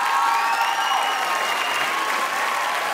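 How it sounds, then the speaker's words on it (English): Studio audience applause on a family talent show, a sustained, full wash of clapping from a large crowd at a steady level, with some faint cheering mixed in. "Give him another round of applause as we bring him over."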